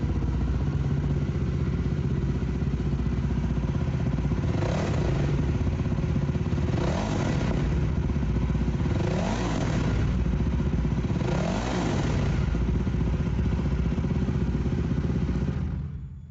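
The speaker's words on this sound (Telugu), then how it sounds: "నేను రెవిచ్చి వినిపిస్తాను ఇప్పుడు" A 2026 Jawa 42 Bobber idles loudly nearby while the throttle is blipped four times at regular intervals, each rev rising and falling back to idle, with small exhaust pops.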